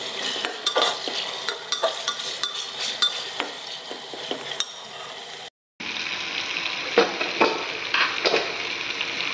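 Chicken pieces for home-style biryani fry in a pan with onions, giving a continuous sizzle punctuated by repeated metallic scrapes and clinks of a spoon stirring, with a brief cut to silence midway.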